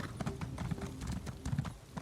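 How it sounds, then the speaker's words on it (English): A summoned Midnight Steed mount in Elder Scrolls Online trots in, quick close clip-clop hoof beats in an uneven rhythm with a few heavier thuds, no speech. "So now I can hit H to call my horse."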